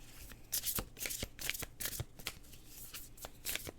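Tarot cards being shuffled up close at a live reading, a quiet run of rapid riffling bursts with no talking.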